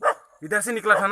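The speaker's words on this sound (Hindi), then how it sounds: "अरे कुत्ता भौंक रहा है।" A dog gives one short, sharp bark, then a person starts talking right after it.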